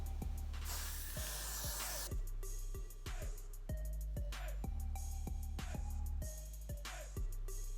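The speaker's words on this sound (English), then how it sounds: "then I'm gonna take some of this spray" Short hissing bursts of hair spray over a braided ponytail, starting with a long spray and then several quick spritzes, close up against a steady background of music with deep beats.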